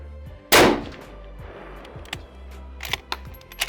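A rifle test-fired for point of impact shift: one loud, sharp gunshot near the start with a rumbling tail, then quieter clicks and handling noises.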